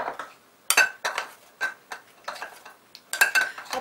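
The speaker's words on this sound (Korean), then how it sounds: "여기에 머랭을 한 큰술에서 2큰술 정도 넣어서 가볍게 섞어주시면 되겠습니다" Spoon or whisk clinks and taps against a bowl in irregular bursts while meringue is gently folded into an egg yolk batter with cold water, sugar and salt for fried shrimp coating, close and sharp with quiet gaps.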